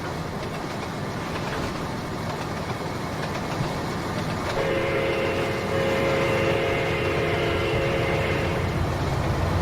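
A long coal train rolls steadily past on a mountain pass, a continuous loud rumble of wagons and engine. A sustained horn-like tone joins partway through and holds for several seconds.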